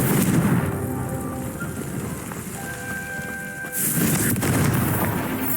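Confringo spell blasts fired in the Hogwarts Legacy video game, heard as a continuous booming, crackling roar with a sharp fresh burst near the end, loud and close.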